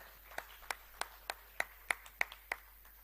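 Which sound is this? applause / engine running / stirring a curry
applause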